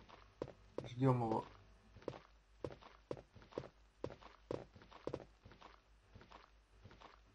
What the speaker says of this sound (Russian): Так, слышу его шаги.